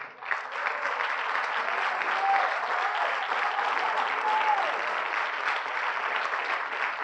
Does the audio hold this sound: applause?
yes